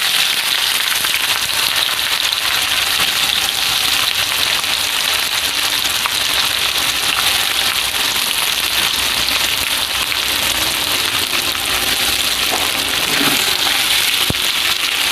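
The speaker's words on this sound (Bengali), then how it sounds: "পেঁয়াজটাকে আমি লাল লাল করে ভেজে নেব।" Chopped onions fry in hot oil for a mutton curry, giving a steady, loud, rain-like sizzle that holds evenly throughout.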